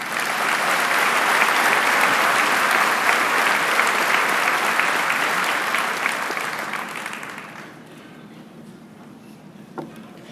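A high school commencement audience gives a long round of applause for the valedictorian, loud, sustained clapping for about seven seconds that gradually dies away into a quiet hall with scattered small sounds.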